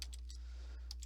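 A few light, rapid keyboard clicks come up close as fingers sweep across a computer keyboard, with a short pause mid-way and a steady background hum.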